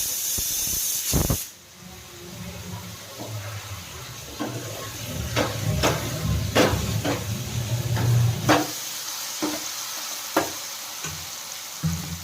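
A pressure cooker cooking dal and rice lets out a loud hiss of escaping steam for a moment, then cuts off, leaving quieter crackling sizzles and scattered clinks.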